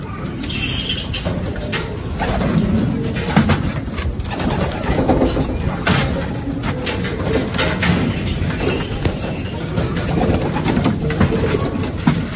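Racing pigeons gathered for club training in Laguna fill the air with a steady, dense wash of cooing, wing patter and shuffling, close and constant throughout.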